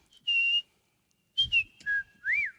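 A person whistles a few clear, pure notes in short phrases separated by pauses, with small slides between pitches, close and quiet.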